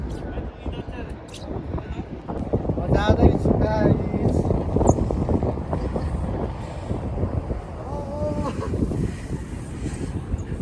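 Strong, cold wind buffets the microphone at a seaside park in Japan, rumbling in gusts beneath people chatting throughout.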